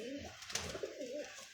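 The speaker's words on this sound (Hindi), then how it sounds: "ये बड़ा कबूतर है दोस्तों" Pigeon cooing, a large male bird kept in a home loft, giving soft, low rolling calls close by in quiet surroundings with no talk.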